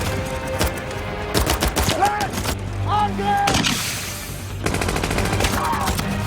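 An M2 .50 caliber machine gun firing in a WWII movie scene: bursts of loud, rapid gunfire mixed with explosive bangs and battle noise, with brief voices shouting in the chaos.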